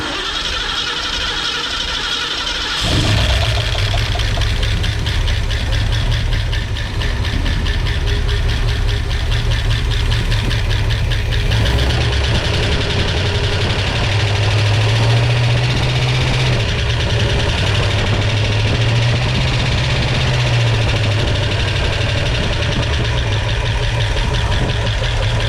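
A used-lifter 1965 Ford Mustang engine fires up after a few seconds of quiet cranking noise, then runs steadily and loudly with a rough, busy clatter from noisy lifters throughout.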